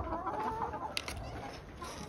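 Hens cluck in a poultry house holding laying hens and Brahma chickens, a faint, busy chorus of overlapping clucks with a brief sharper squawk partway through.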